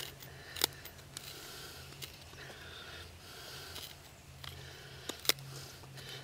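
Whole hickory wood being trimmed out by hand to make a bow drill notch, giving faint, intermittent scraping and shaving sounds with a few sharper clicks, no talking.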